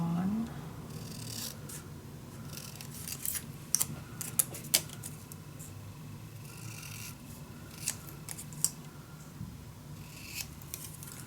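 Scissors cutting paper for a scrapbook mini album sound close and soft, with scattered small snips and clicks over a quiet room hum, and a voice is heard faintly now and then.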